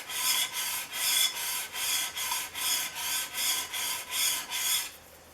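A plane iron is rubbed back and forth on 150 grit abrasive in about ten even, rhythmic rasping strokes, close and clear, with no talking.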